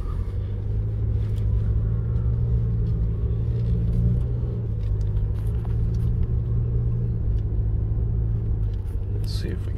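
A 2022 Toyota RAV4 Hybrid driving on beach sand at Oceano Dunes, giving a steady, loud low engine and road rumble that runs throughout without a break.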